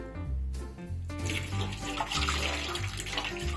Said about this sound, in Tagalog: I-drain ko yung water.